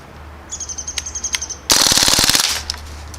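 A Crosman Panther Arms DPMS BB rifle fires on full auto, a dense rapid burst of snappy shots lasting about a second, preceded by several lighter clicks and a high whine.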